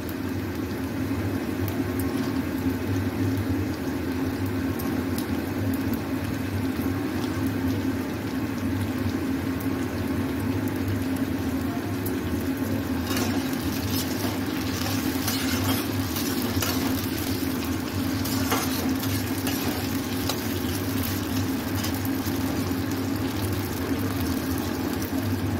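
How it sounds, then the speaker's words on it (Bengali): Potatoes frying in oil together with half-fried onions, a steady continuous sizzle with occasional stirring scrapes, close and fairly loud with no talking. "আলুটা ফ্রাই করে নেব একসাথে।"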